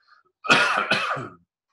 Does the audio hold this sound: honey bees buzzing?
no